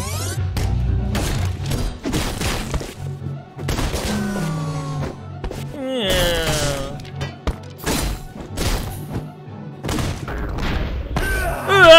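Turret gunfire in Katana Zero: sharp bursts of shots and impacts cut through by swishing blade sweeps and quick slashing effects, loud and busy, coming in clustered volleys with short gaps between them.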